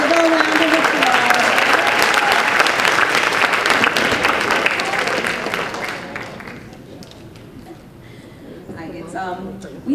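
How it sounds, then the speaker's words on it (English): A board of education meeting audience applauds for a teacher in a loud, dense burst that fades after about six seconds, with voices heard beneath it and a person talking as it dies away. "give her a round of applause"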